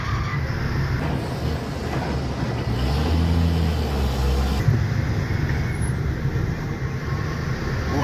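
A Mercedes-Benz Axor 2528 truck engine labours uphill after a downshift, a heavy continuous low drone heard from the cab that swells in the middle and then settles.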